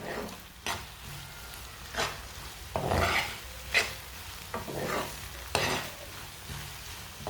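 Eggs and vegetables sizzle gently in a pan for an omelette sandwich, with a spoon scraping and stirring in repeated strokes every second or so over a steady low frying hiss.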